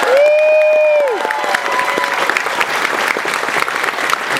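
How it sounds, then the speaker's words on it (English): Crowd at a Transformers fan convention panel at Fan Expo 2019 breaks into applause after a loud whoop, steady clapping filling the room with scattered cheers mixed in. "Let's get a round of applause for Larry Cullen."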